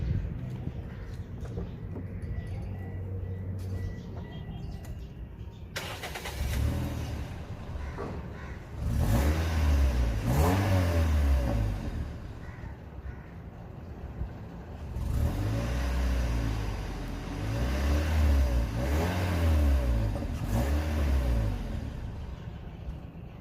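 A Toyota 1NZ-FE car engine cranks and starts, then revs in repeated loud bursts that rise and fall, idling steadily between throttle blips, close to the microphone with no talking.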